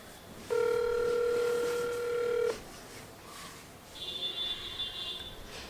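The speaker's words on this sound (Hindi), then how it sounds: "तो मैं खुद इसको कॉल करता हूँ अभी" A phone call being placed: a sustained loud electronic tone lasting about two seconds, then after a short gap a fainter warbling ring tone, with no talk.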